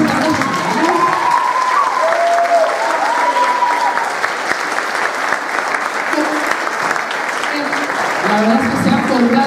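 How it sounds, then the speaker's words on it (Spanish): A gala audience claps in sustained, dense applause at a Christmas television gala, steady and loud throughout, with a few voices calling out over it. "¡Un aplauso!"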